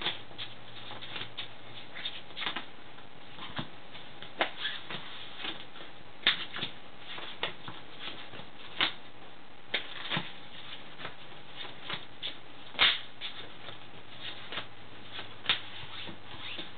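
A deck of Pokémon trading cards shuffled over and over, soft papery riffling and pattering with sharper snaps at irregular moments, close and continuous under a faint steady hum, with no talk.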